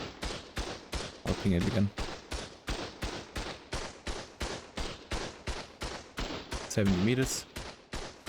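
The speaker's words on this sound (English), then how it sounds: "And it will shoot me right over here." Automated turret in ARK: Survival Ascended firing at a player at 70 meters, a steady rhythmic stream of sharp shots about three per second throughout, with brief voiced pings and someone talking over it.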